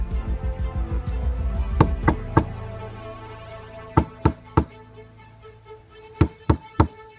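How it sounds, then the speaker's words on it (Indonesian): Three sharp knocks on a door sound in a steady row, repeated in further sets of three, sitting over a faint, busy backing of music and low hum. "Setelah 3 kali ketukan pintu"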